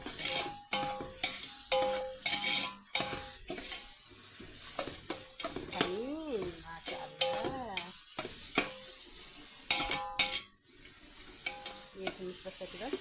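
Onion, garlic and ginger sizzle in a pan for a Chicken rice dish, stirred with steady scraping strokes; near and continuous, with a musical tonal hum and brief tones drifting over the frying.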